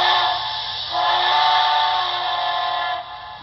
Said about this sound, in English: Go back to the whistle.